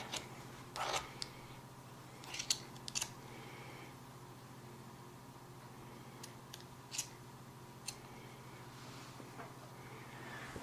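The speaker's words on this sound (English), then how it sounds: "just trim them with the scissors" Scissors trimming tassel threads: a few faint, sharp snips scattered across a quiet room with a low steady hum, the cuts spaced irregularly with long gaps between.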